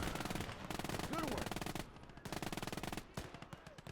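An MG42 machine gun in the Gates of Hell WW2 strategy game fires long rapid bursts with a fast, steady rhythm, with a brief pause between strings of shots.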